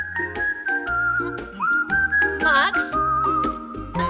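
Someone whistles a wavering tune close by, long clear notes sliding up and down with a brief trill in the middle, over a faint low background; a voice calls out once.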